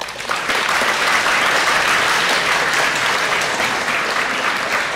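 Warm applause from a school election debate audience fills the room, a dense, steady clatter of many hands clapping that starts abruptly and holds at an even, loud level throughout.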